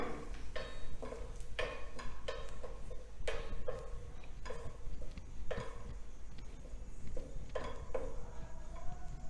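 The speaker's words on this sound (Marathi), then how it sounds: "आता हे कॉर्नफ्लॉर भाजून घ्यायचं" Cornflour and garlic are roasted together in a pan, with a quick run of close spatula taps and scrapes against the metal over a steady low sizzle, and no voices.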